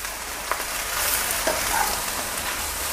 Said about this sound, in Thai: แจ็คชอบใช้ไฟแรงแบบนี้แหละไฟแรงแล้วก็ผัดให้มันมีกลิ่นหอมขึ้นมา